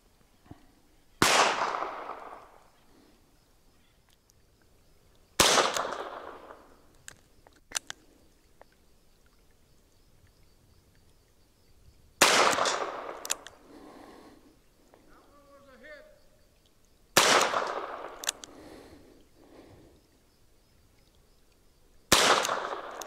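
Five loud, sharp reports from a Ruger Super Redhawk Alaskan .454 Casull revolver fired outdoors, spaced several seconds apart, each followed by a long rolling echo; a brief voice sounds between two shots.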